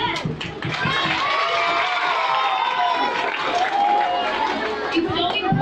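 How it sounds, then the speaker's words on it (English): A crowd of schoolchildren cheers and claps loudly at a school visit, a continuous burst of applause mixed with excited shouting and chatter, close and lively throughout. "I want you to give you an applause"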